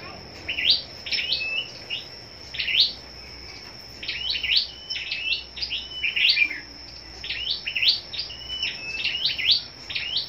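A red-headed songbird kept for singing contests repeats bright, quick chirping phrases in bursts across the stretch, close and clear over a steady faint high whine and quiet background.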